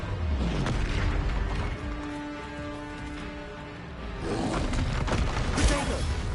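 Bombarda and Confringo explosion spells blasting in Hogwarts Legacy, with loud booming bursts at the start and again near the end, a ringing, crackling tail between them, and music underneath.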